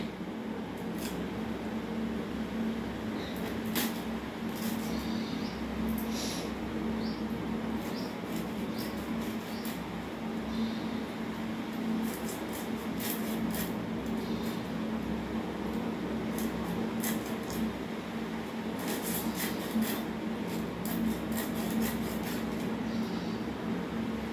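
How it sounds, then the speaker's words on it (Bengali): A fish being cut by a person standing at a counter, with steady close scraping and rasping strokes, scattered sharp clicks, and a constant low background hum throughout. "চলো মাছটা কেটে নিই, তোমরা দেখতে থাকো।"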